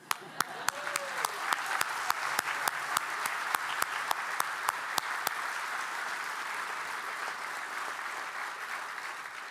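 Sustained applause from a reception audience at a farewell event honoring a retiring university president, dense and steady throughout, with a few sharp individual claps standing out near the start.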